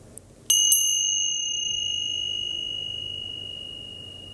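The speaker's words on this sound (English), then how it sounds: "I'll ring the chime and just listen to it as long as you can" A single meditation chime is struck once and rings out as a pure, clear tone that fades slowly over several seconds in a quiet room.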